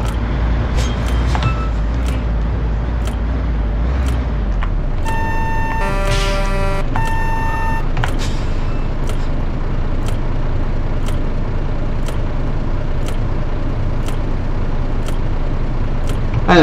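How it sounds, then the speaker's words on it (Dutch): A truck horn blares repeatedly in the Euro Truck Simulator driving game, sounding in short repeated blasts over steady engine and traffic rumble, loud and close, with no talking. "Dat is dus echt een vrachtwagenchauffeur continu aan het toeteren."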